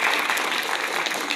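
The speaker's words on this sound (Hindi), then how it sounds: "पहले तो सबसे पहले इनके लिए तालियां बजाएं।" At a university workshop on transgender representation, an audience breaks into brisk, dense clapping that stays steady and fairly close for a short burst.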